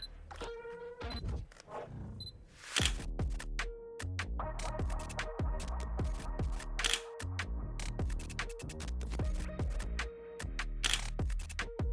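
A camera fires a rapid series of crisp shutter clicks during a studio shoot with artificial sunlight setups, the shots coming in quick irregular bursts up close with no talking.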